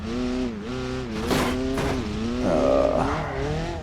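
A damaged car engine with oil pan damage revs hard in the BeamNG Drive video game, its harmonic whine rising and falling through repeated revs with a tire squeal near the end, loud and close.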